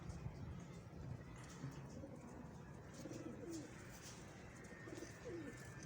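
Sialkoti breeder pigeons of an old breed coo softly and repeatedly in a low, rolling rhythm, somewhat distant, over a steady outdoor background hum with faint passing traffic.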